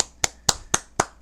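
Five sharp, evenly spaced claps ring out close and fairly loud, each a crisp single slap with a short fading tail.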